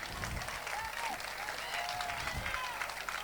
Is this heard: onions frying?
no